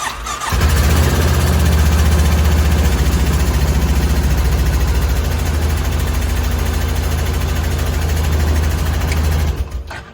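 A 2009 Honda Big Red utility vehicle engine with a newly replaced starter cranks and fires, then idles loudly and steadily up close for about nine seconds before cutting off, with no talk.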